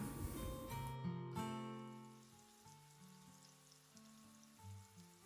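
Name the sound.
apples frying in oil in a pan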